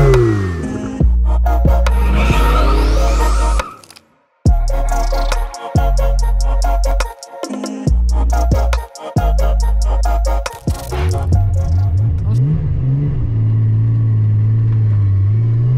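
A BMW E36 making 600 wheel horsepower revs hard and loud, its engine climbing through repeated rapid manual gear shifts with brief breaks between pulls, then settling to a lower drone at the end.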